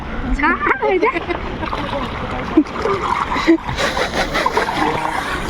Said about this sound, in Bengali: দেখো বন্ধুরা সাঁতার কাটবো